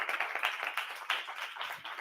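Brief audience applause for a speaker at an academic conference on photonics, radar and telecommunications, a modest patter of clapping in a hall lasting about two seconds.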